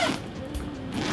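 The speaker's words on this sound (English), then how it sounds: "we've got nice solid feeling zippers, a rubber coated pull." A zipper opens on a Nelson Rigg CL-2015 Journey Sport motorcycle tank bag with a rubber-coated pull, one continuous close rasping pull lasting about a second, with no talking.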